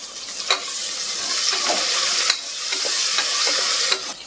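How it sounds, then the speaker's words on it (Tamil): Tomato and onion sauté in a pan for mint pulao, a steady soft sizzle broken by scraping stirs of a spoon every second or so, with no talking. "அதை நல்லா வதக்கிக்கலாம்."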